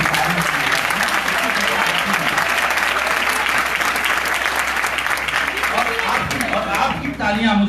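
A crowd at a comic poetry gathering held in a coaching center claps loudly and steadily for several seconds, a thick continuous roar of hands, with a voice rising near the end.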